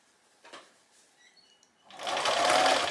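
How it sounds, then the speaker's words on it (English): A sewing machine stitches in the ditch along a skirt waistband, starting after soft handling noises and running steadily and close for about a second at the end. "now I'm just going to stitch what's called in the ditch, so in that line between where my waistband's coming up"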